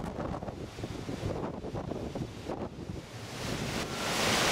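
Storm waves and gusting wind batter the Dawlish sea wall beside the railway during the 2014 storms, a roaring wash of surf and buffeting wind noise on the microphone, swelling louder toward the end.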